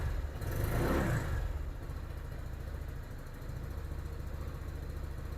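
Engine of a new Lifan KPV 150 revving above 2,000 RPM, a loud rise in pitch at the start, then settling into a steady, close mechanical drone.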